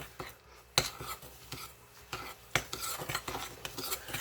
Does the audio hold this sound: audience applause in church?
no